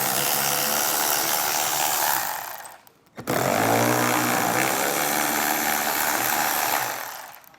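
A 12mm socket wrench unthreads factory roof rail bolts on a 2017 Toyota 4Runner, giving a loud, steady mechanical whir that cuts out briefly mid-clip and then resumes close to the microphone, with no talking.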